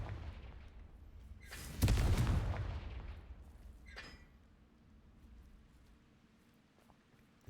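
Confringo fire spell from Hogwarts Legacy, one loud burst with a rumbling tail, then a fainter crack two seconds later against quiet game ambience.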